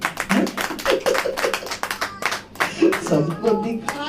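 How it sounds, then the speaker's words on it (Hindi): A church congregation claps along during a Hindi sermon, dense overlapping hand claps in quick bursts mixed with a preacher's voice and crowd noise. "ताली बजाओ।"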